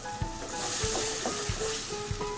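A yogurt and gram flour mixture for spicy masala kadhi poured into hot ghee and masala, giving a loud steady sizzle and hiss with repeated low thumps of stirring, no voices.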